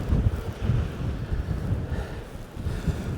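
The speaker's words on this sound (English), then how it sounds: "I don't know what that wind sounds like on the mic, but that is really blustery" Strong, blustery outdoor wind buffeting the microphone as a continuous low rumbling roar, loud and unbroken, with no voices.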